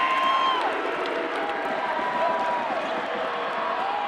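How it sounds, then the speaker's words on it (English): Basketball arena crowd at a college men's game, William & Mary at James Madison, roaring and cheering after a made three-pointer; a broad, steady wash of distant crowd noise lasting throughout, with faint whistling tones on top. "That'll put the crowd on their feet."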